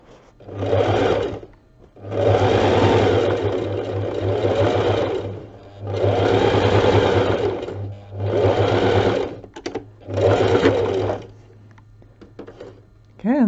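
A sewing machine stitches up gaps in a coiled rope basket, running in five loud bursts of rapid mechanical whirring separated by short pauses, close up and with no voice.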